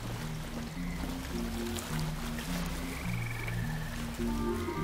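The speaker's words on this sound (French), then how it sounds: "Oh les grenouilles." Frogs croaking in the underwater video game Abzû, a chorus of repeated low throaty croaks overlapping in an uneven rhythm over a soft watery ambience, with no one talking.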